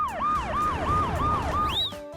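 A loud ambulance siren effect wails in a fast repeating yelp, rising and falling about five times before breaking into a higher sweep and cutting off abruptly.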